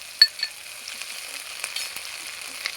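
Garlic paste and a bay leaf fry in hot oil, giving a quiet, steady sizzle with a couple of sharp pops and spatters near the start.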